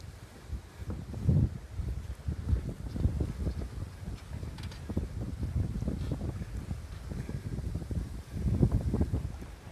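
Steady wind roars and buffets the microphone beside a lake in Skaneateles, New York, near an old tour boat, a continuous loud rumble with gusts swelling and fading and no clear talk.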